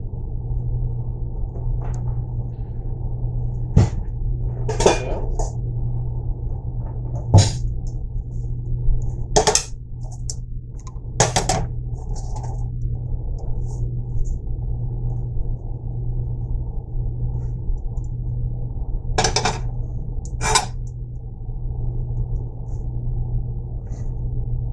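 Dishes and bowls clink and knock in scattered, sharp bursts as someone rummages through a kitchen cupboard while deviled eggs cook, with a steady low hum beneath and no talking.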